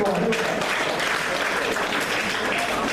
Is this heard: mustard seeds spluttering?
no